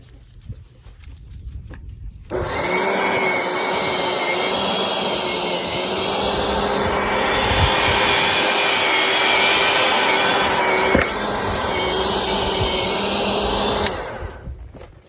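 An Earthwise 8.5 amp 11 inch electric mini tiller starts up and runs with a loud, steady, close whirring roar for about eleven seconds, then cuts off, with no talk over it.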